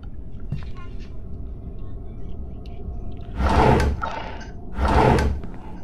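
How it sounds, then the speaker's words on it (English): Drawers are pulled open in the horror video game Grandpa, giving two loud, sliding scrapes a second or so apart over a constant low ambient rumble. "Let's check in these drawers."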